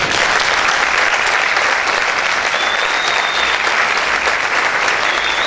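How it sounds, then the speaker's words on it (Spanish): A church congregation applauds steadily at the close of a Spanish-language sermon, a dense, even wash of clapping that fills the whole stretch without pause and with no voices over it. "Vamos a dar un fuerte aplauso al Señor."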